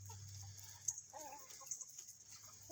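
Backyard chickens and a large rooster clucking softly nearby, a few short, scattered clucks over a faint low hum, quiet and close.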